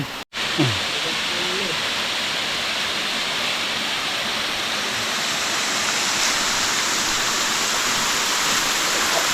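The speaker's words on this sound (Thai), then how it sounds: "โอ้ยน้ำตกสวยงาม" A waterfall out in nature gives a steady, close, full roar of rushing water that holds constant throughout, with only a brief thump at the very start.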